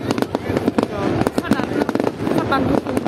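Fireworks going off for the Tet new year, a rapid run of sharp cracks and pops with crackling bursts, heard through people talking nearby.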